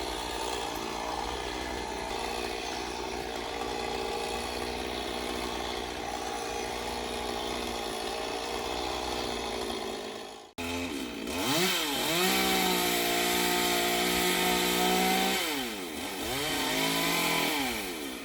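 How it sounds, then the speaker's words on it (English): A petrol chainsaw runs steadily, then after a brief cut-out it revs up and down, its engine pitch rising and falling as it bites into wood, felling a garden tree. "the tree surgeon was using a petrol chainsaw to cut down the tree"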